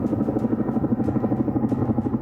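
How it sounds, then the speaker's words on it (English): Helicopters take off from the Kacha airfield with a loud, deep rhythmic rotor thump that pulses evenly throughout and sounds fairly close. "helicopters took off from the Kacha airfield."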